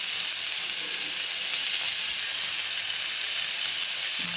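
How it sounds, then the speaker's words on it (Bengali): Vegetables with turmeric fry in a pan for a ridge gourd and pumpkin curry, a steady close sizzle and hiss running throughout with faint stirring under it and no talk. "হলুদ দিয়ে এবার নাড়াচাড়া করে হালকা একটু ভাজা ভাজা করবো"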